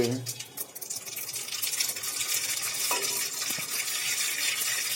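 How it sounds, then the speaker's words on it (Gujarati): Dal being tempered for dal-baati, with spices such as cumin, asafoetida, bay leaf, hot chilies and curry leaves sizzling in hot oil: a steady, bright close-up hiss with a few faint clinks from stirring. "ચાલો તો હવે સરસ રીતે આપણે વઘાર કરી લઈએ મિત્રો દાળનો"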